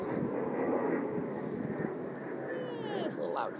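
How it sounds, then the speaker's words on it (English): A fixed-wing airplane passes overhead, a soft distant engine drone that swells and fades beneath a person talking indoors. "Hello, plane."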